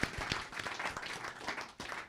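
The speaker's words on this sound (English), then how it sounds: "give everybody a big round of applause" Crowd applause at an ISKCON temple celebration for Srila Prabhupada Vyasa Puja, a dense burst of many hands clapping that swells and dips over about two seconds, fairly close and with no talk over it.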